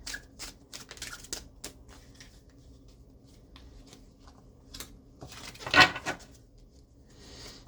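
Tarot cards shuffled by hand during a reading, a crisp riffling burst standing out amid soft card handling and light taps in a quiet room.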